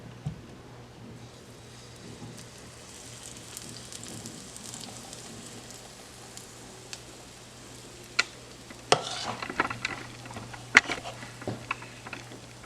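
Fritters frying in a little oil in a pan: a steady low hiss with soft crackles and patter, growing livelier toward the end with sharper pops and spits.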